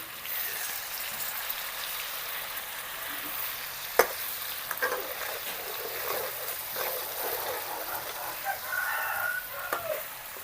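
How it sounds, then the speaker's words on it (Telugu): Onion paste frying in oil in a village-style kitchen, a soft steady sizzle with occasional stirring scrapes and one sharp knock, fairly faint, with a rooster crowing in the background. "ఇప్పుడు ఉల్లిపాయ పేస్ట్ నూనెలోకి వెళ్ళిపోయి తిప్పుకున్నాం ఒకసారి."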